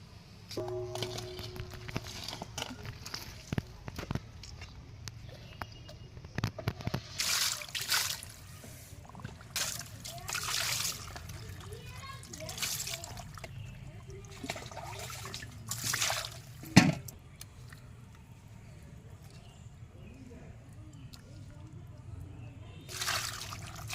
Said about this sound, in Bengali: মাছটা এবারে আমি ভালো করে ধুয়ে নেব